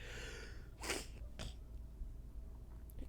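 A single abrupt sneeze bursts out over a low background hum, followed a moment later by a shorter breathy sniff or snort.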